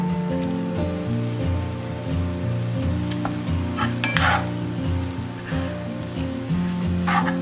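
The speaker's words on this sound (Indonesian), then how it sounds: "Aduk terus sampai dia matang nih bumbu." Blended spice paste for chicken soto sizzles steadily as it is stirred and fried in a pan, with continuous crackling and occasional spatula scrapes; no one talks.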